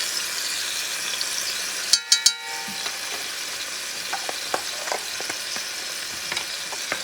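Beef neck bones frying with turmeric in a pot, a steady soft sizzle with a few sharp clanks of a utensil, then light scraping taps as the contents are stirred.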